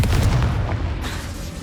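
A Confringo fire-blast spell bursts in Hogwarts Legacy with a heavy, loud boom and a sustained low rumble, followed by a second softer crack about halfway through.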